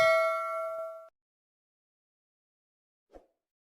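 A single bright notification bell ding rings out clearly and decays over about a second, followed by silence and a faint short knock near the end.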